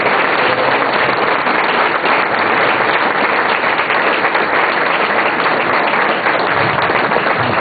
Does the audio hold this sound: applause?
yes